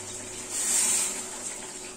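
A little liquid is poured into a simmering potato and pointed gourd curry, a brief close gush of water swelling and easing over about a second against a faint steady background.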